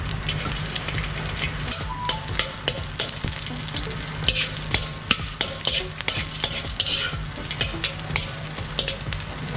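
Garlic sizzles steadily in a hot pan while being stirred, a dense frying crackle with scrapes and clicks of the utensil throughout, close and moderately loud, no voices.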